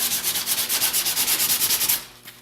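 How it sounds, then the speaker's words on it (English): A sanding block rubs briskly back and forth over wooden furniture to distress it, producing a close, loud run of rhythmic rasping strokes that stops abruptly near the end. "I'll pick my sanding block back up and kind of rough it up further."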